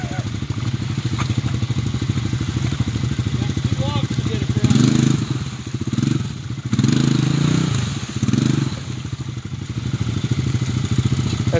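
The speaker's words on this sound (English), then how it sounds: "That's what I call a hot engine." A hot engine churns through water with a steady mid-pitched motor drone, rattling clatter and splashing, loud and continuous throughout the outing.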